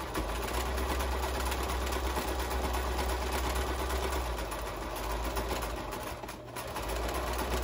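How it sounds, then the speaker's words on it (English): A sewing machine runs continuously while back stitching the end of a fabric tool belt, a steady rapid mechanical whir with a brief slowdown near the end. "Back stitch on this end."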